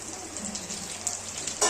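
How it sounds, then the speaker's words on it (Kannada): Chicken pieces deep-fry in hot oil for homemade KFC-style chicken, giving a soft, continuous sizzling hiss that is fairly quiet, with a short louder crackle at the end. "ನೋಡಿ ಫ್ರೆಂಡ್ಸ್, ಈ ಥರ ಫ್ರೈ ಆಗುತ್ತೆ."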